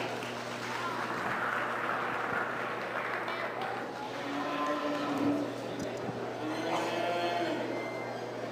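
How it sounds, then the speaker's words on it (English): Applause from the audience at a 2022 stocker feeder livestock show as heifers leave the ring, moderate clapping spread through a large barn, with cattle lowing and farm-animal noise mixed in, alongside a steady low hum. "Let's give them a round of applause as they leave the ring."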